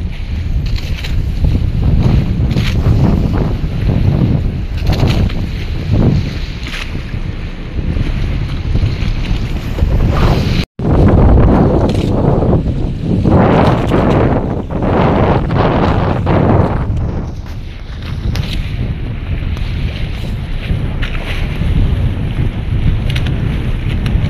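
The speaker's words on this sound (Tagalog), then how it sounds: "So kusog ang hangin mga kabangka, namuti ra ang atong dagat." Strong, blustery wind roars continuously across open water, buffeting the microphone with heavy gusts and a constant rushing wash, with no voices.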